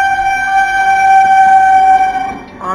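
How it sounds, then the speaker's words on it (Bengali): A train sounds a loud, sustained horn blast with a steady tonal chord as it passes. The horn holds for more than two seconds and then fades away. "আরো একটা ট্রেন পাস করে গেল।"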